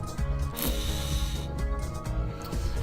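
Bolts go back onto a hot rod carburetor in a gun disassembly game, heard as quick repeated ratcheting, clicking mechanical turns in an even rhythm, close and clear.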